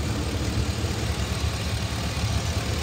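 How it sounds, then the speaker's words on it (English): A 2006 Chevy Silverado 3500HD with a 6.0 liter V8 and 99,000 miles idles steadily after a long warm-up, a constant low rumble with even texture and no talk over it. "It idles smooth, revs up nice."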